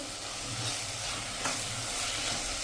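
Green pigeon peas with sugar are stirred in a pan over a gas flame, making a constant close sizzle with soft scraping from the stirring and no pauses.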